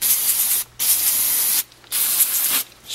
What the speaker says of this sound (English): spray some of that on it